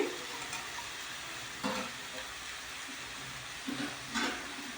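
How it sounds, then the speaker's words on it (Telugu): Onion paste and ginger garlic paste fry in a pan for a chicken gravy curry, giving a steady low sizzle with a few brief bursts of stirring. "ఆనియన్ పేస్ట్, అల్లం వెల్లుల్లిపాయల పేస్ట్ 2 మిక్స్ చేసి ఇదిగో ఫ్రై చేస్తున్నాను"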